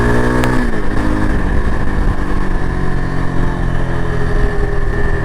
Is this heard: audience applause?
no